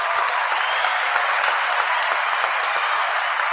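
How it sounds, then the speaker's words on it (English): Audience applause for women on International Women's Day during a talk show, steady dense clapping throughout, fairly loud and without speech. "give them a big round of applause for all the women out there"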